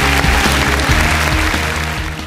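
Applause from the audience at a 2018 Turkish automotive retail congress as a speaker is invited back to the podium: dense, steady clapping filling the hall, with music playing underneath.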